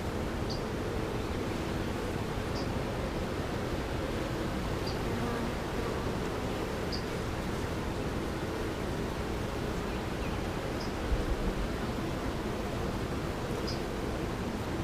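Honeybees buzzing at an open hive during a routine inspection, a dense steady drone filling the air close by, with faint occasional ticks and no voices.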